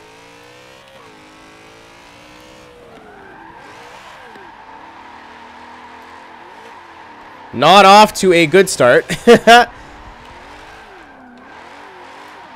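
BMW E92 drift build with a turbo at Silverstone in a racing game, engine droning at steady revs, then a loud burst of revving and squealing tires, with someone talking briefly over it.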